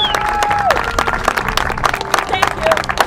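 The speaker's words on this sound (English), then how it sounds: "Round of applause for Kathy." Trail work volunteers clap and cheer outdoors in McLaren Park, a dense round of applause mixed with whoops and nearby voices throughout.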